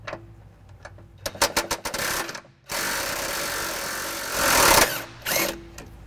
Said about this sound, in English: I'll be using an impact and an 18mm socket.